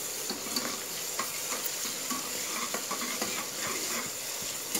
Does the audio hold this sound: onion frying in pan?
yes